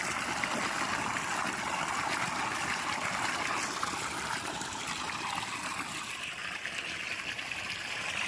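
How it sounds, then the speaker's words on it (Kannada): Steady water pours and splashes continuously, a dense rushing flow falling into a well, with no voices. "ನೀರು ಈ ಥರ ಬೀಳ್ತಾ ಇದೆ"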